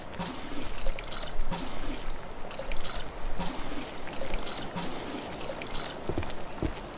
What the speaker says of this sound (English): it does sound nice to have this bubbling sound effect in the background